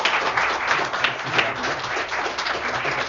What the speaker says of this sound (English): So I think we can give a big round of applause to Joël.